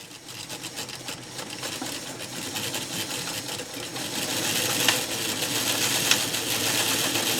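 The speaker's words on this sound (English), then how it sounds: "I'm going to sew over it back and forth a couple of times." Sewing machine stitching back and forth over elastic sewn into fabric, a steady close whirring hum with rapid needle clatter that runs continuously, growing slightly louder toward the end.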